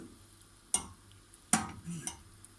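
Caramel stirred in a pan gives a few sharp scraping clicks of a utensil against the metal, spaced apart over a faint low background.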